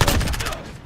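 A short, loud burst of rapid automatic gunfire from the video game Call of Duty Modern Warfare, the rattling shots crowding together before quickly trailing off.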